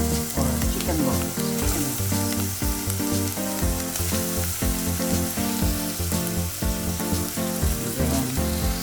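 Chicken balls fry in a pan for misua soup, a continuous loud sizzle that holds steady the whole time with no talking.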